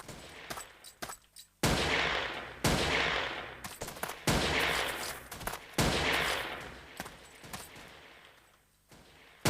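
Gunfire in the Ace of Spades video game: loud, repeated blasts in irregular bursts, each cracking out and decaying, with softer clicks and rattles between the shots.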